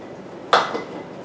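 Onion pieces dropped into a glass canning jar give a single sharp clink and rattle against the glass, then fade to a short quiet ring in an otherwise hushed kitchen.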